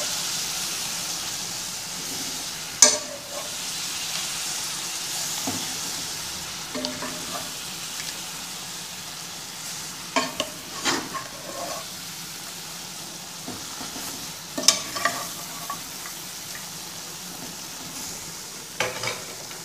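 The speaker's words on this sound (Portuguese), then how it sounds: "E já vamos colocando nossa carne aqui com a cenoura." Beef and carrots sizzle in a cooking pot with fresh herbs, a low steady frying hiss under scattered sharp scrapes and knocks from stirring, close up with no talking.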